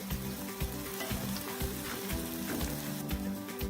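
Steady loud sizzling of a capsicum curry frying in a pan as turmeric and chilli powder are stirred in, with scraping stir strokes over a continuous crackle; no talking.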